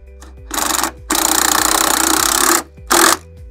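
A power tool whirs in three bursts, a short one, a long steady run and a brief final one, while snugging a 13 mm bolt on the 12V battery of a GMC Sierra Denali EV.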